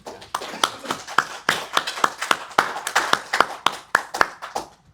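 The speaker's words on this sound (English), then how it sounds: "let's go ahead and give them a round of applause." An audience claps for the panelists at the close of a solar energy panel discussion in Hawaii, a brisk scatter of sharp, close hand claps lasting several seconds before tapering off.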